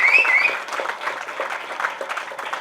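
Applause from an audience at a ceremony honouring social workers, dense clapping that starts loud and settles to a steady, slightly softer patter over a few seconds, with no speech.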